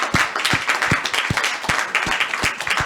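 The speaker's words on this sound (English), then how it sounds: "I think the round of applause is also for yourselves" Audience applause at the close of a talk, a small crowd clapping steadily at close range, moderately loud and alone without speech.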